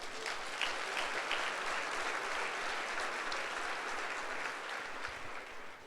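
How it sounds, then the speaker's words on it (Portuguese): A church congregation at a Sunday service claps in sustained, dense applause, loud and steady throughout with no voices on top. "Pode dar um aplauso a Jesus."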